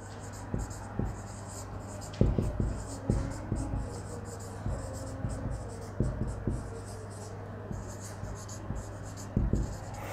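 Pen scratching on paper while physics equations are written by hand, a soft ongoing scribble with small taps and strokes, close but quiet over a steady low hum.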